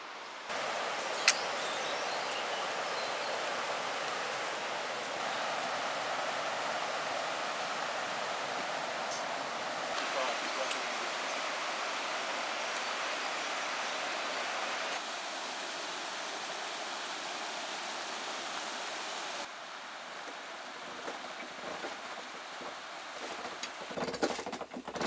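Small mountain river on a trek in western Nepal, flowing in a steady broadband rush that holds even and close for the whole stretch and thins slightly near the end, with no voices.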